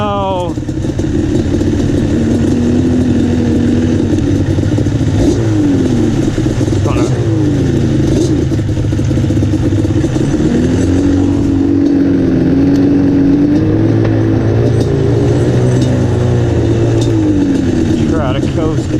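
Polaris RZR side-by-side engine running steadily with rising and falling revs, loud and close throughout, with people talking over it.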